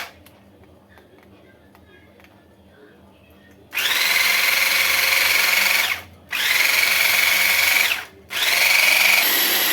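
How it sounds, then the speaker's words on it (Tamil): An electric blender whipping chilled homemade cream starts after a quiet pause, then runs in three loud, steady whirring bursts separated by short stops, with nothing else heard over it. "இப்போ இதை பிளண்ட் பண்ணிக்கலாம்."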